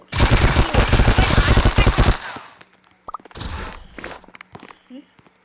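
Gunfire in a shooting video game: a dense, loud burst of rapid automatic shots for about two seconds, followed by scattered single shots, thumps and whooshes with brief voice sounds.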